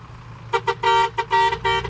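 Several loud truck horn blasts, some short and some held longer, sounding close by in an uneven honking pattern.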